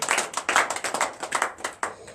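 A church congregation claps in unison to acclaim Jesus Christ during a Saturday morning prayer service, with steady, fairly quick, loud hand claps in an even rhythm throughout.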